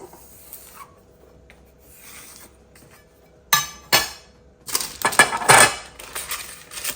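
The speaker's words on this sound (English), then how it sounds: "I have only one deep cake tin. So I'm going to grease and line it up." A deep cake tin being greased and lined, with faint rubbing early on, then sharper rasping, scraping and light clinks of paper and metal growing louder near the end, with no voices.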